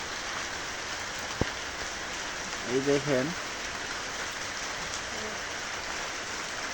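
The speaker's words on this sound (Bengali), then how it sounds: "তারপরও বৃষ্টি পড়তেছে" Steady rain falls outside, a continuous broadband hiss throughout, with a brief voice speaking midway over it.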